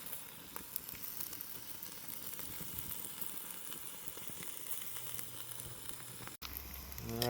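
A 1 lb T-bone steak cooking over an outdoor fire pit oven gives a steady, close crackling sizzle with scattered pops. The texture holds even throughout, and a brief low hum enters near the end.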